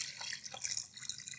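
Homemade chicken stock poured from a large stock pot into a smaller container, a soft, steady trickling liquid sound with light splashing, close and fairly quiet.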